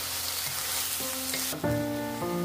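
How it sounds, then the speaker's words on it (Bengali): Steady sizzling of rice and meat frying together in a pan, with tonal hums and clinks from the kitchen layered over it. "এখন চাউলের সঙ্গে মিটটাও একটু ভেজে নিয়েছি, মিশানো হয়ে গেছে।"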